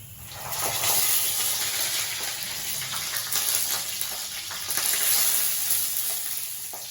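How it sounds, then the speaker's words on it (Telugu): Steady loud sizzle of stuffed masala capsicum frying in hot oil in a pan, a continuous hiss with soft crackles and occasional stirring, no talking. "ఇప్పుడు మన క్యాప్సికమ్ ఈ విధంగా ఫ్రై అయితే చాలు"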